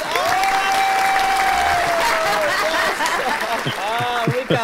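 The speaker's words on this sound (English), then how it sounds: "Let's get that big applause." Big applause from a live show audience, loud and steady throughout, mixed with cheering and whooping voices near the end.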